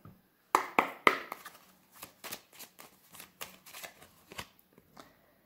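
Oracle cards are shuffled close by in a quiet room: a quick burst of crisp riffling snaps, followed by a series of softer, irregular card slides and taps.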